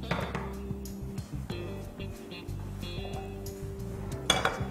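A cooking pan set down for making masala in a home kitchen, heard as a series of metallic clinks and knocks of cookware against the stove, with a steady background hum and a brief clatter near the end.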